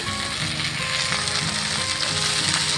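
Shredded, washed cabbage hits a pan of onions and chillies frying in oil, giving a loud, steady sizzle with crackling spatter throughout.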